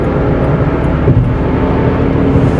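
A VW Polo TSI 1.0 litre petrol engine with manual gearbox pulls hard in third gear, a steady broadband drone and road rumble heard from inside the car, loud and continuous with no clear pitch rise.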